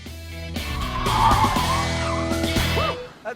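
A compact car drives its final lap on a track, with a loud, close engine growl, tires squealing and skidding, and a brief sharp sound at the end.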